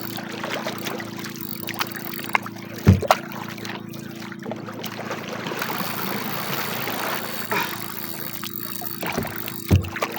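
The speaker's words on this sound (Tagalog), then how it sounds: "Kailangan magsagwan tayo eh, para hindi tayo malayuan." A small boat is paddled on open water while fishing, with soft splashes and water trickle running throughout and a few sharper knocks of the paddle against the hull near the middle and end, no talk.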